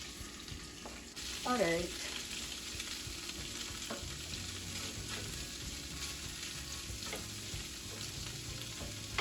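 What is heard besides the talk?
tofu frying in heated oil in a pan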